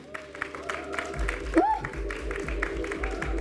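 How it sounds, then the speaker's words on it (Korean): Audience applause welcoming a film director onto the stage at a press event for a Korean feature film, a moderate crowd clapping under a distinct melodic whistle-like tone and background voices. "여러분, 강영철 감독님을 박수로 모시겠습니다"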